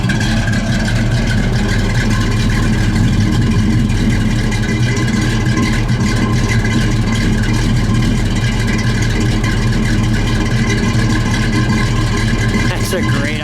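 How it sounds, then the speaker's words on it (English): A 1968 Buick GS 400 Gran Sport convertible's V8 idling up close, a loud, steady low rumble with a lumpy throb and cooling fans whirring, continuous throughout with a voice speaking over it. "You're gonna love the idle on this one."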